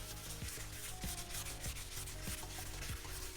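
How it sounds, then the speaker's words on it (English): Wet sandpaper rubbed back and forth across a metal valve cover, a steady rasping scrub with regular strokes roughly every half second, close and continuous with no talking. "sand one complete section in one direction and then on the next pass sand it in a different direction"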